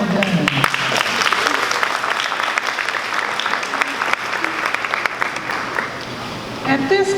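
Applause from an audience at a leadership speaker series lecture, dense clapping that gradually thins, with a voice starting to speak over the last moments.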